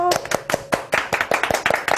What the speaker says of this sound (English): a last round of applause to Mr. Mike